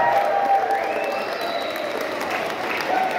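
Applause from an audience at a school ceremony in Chalcatongo, a steady, fairly close wash of clapping under a tonal background, with a voice briefly audible.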